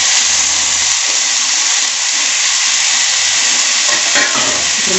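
Tomato pieces and onions fry in hot oil for munakkaya pulusu, a drumstick curry, making a loud, steady close-up sizzle with a faint stir near the end.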